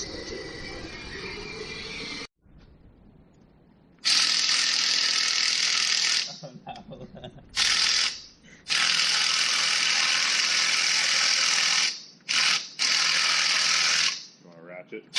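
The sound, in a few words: ratchet wrench turning on a car engine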